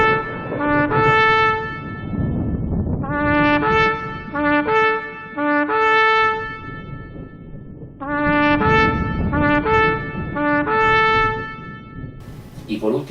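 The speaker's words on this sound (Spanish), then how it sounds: "el quebrantamiento, son 3 notas cortas en suspiro suave" Shofar sounds the shevarim in repeated groups of short, sighing horn notes separated by pauses, each burst brassy and clear over a low, noisy background hiss.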